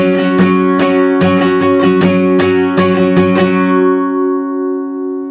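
Acoustic-style guitar chord strummed in a down-up pattern for a song, about a dozen bright rhythmic strokes ringing close and loud, then one chord left to sustain and fade without any talking.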